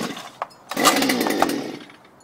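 A Stihl BT 121 gas earth auger engine is pull-started: a short tug of the starter cord, then a loud engine burst that sputters and runs for about a second before fading away, close by with no talking.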